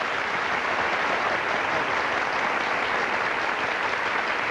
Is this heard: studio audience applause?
yes